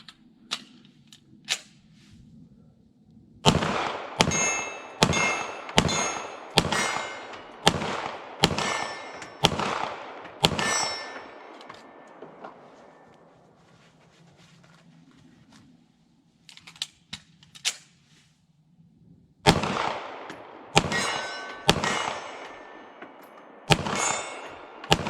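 CZ Tactical Sport 2 pistol firing at steel targets: sharp shots ring out in quick strings, each followed by a metallic ping, with a short burst, a pause, then another rapid run.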